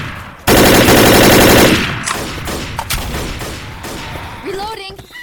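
Rapid rifle fire in the Left 4 Dead video game, a loud sustained burst of shots near the start, followed by scattered single shots, clatter and game effects fading out, with a voice briefly in the mix.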